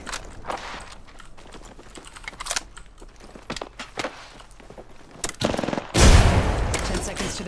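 Apex Legends gunfire: scattered sharp shots and footsteps, then a rapid burst and a loud, sustained blast near the end.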